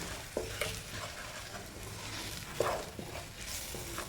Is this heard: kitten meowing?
no